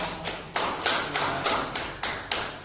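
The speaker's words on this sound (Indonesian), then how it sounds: "Kasih aplaus dulu." Applause in a classroom, heard as a short patter of several claps spaced in rough bursts, close and moderately loud, with no talking over it.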